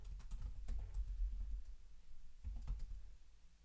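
Computer keyboard keys click in two quick bursts of typing separated by a short pause, close and fairly quiet.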